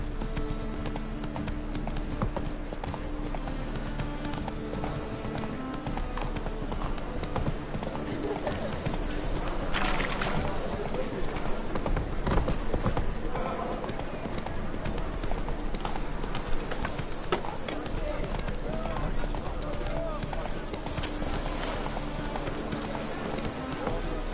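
The horse Roach gallops with a steady, close clip-clop of hooves throughout, mixed with game sound and occasional voices.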